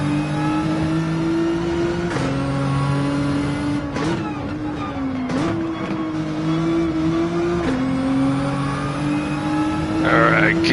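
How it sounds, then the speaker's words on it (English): A racing-game car engine at full throttle during a race at Watkins Glen, a steady loud whine holding near one pitch with a few brief dips at gear changes or corners, sustained throughout. "definitely laid on my throttle right there"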